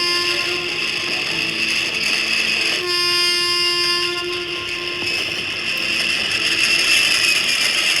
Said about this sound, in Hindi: चूहापुर जाने वाली ट्रेन पनौतीपुर स्टेशन पे आ रही है